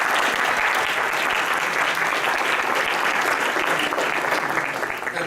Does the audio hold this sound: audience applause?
yes